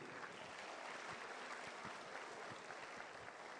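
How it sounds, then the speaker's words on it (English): Faint, steady applause from an audience at an aerospace convention marking Dr. A.P.J. Abdul Kalam's 93rd birth anniversary, a dense distant patter of many hands clapping continuously without voices over it. "I want a big round of applause from you."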